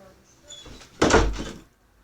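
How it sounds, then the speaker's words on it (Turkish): A door closes indoors with a single solid thud after a brief rustle of movement, close by and fairly loud, fading quickly. "bir saniye kapıyı kapatmayı unutmuşum arkadaşlarım"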